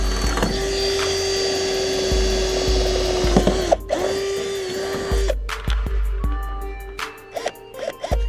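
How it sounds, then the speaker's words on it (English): A power drill bores a pilot hole during a light bar install on a Toyota 4Runner, its motor whining in sustained bursts that stop and restart, with close mechanical grinding and short pauses between runs. "That drill bit is money"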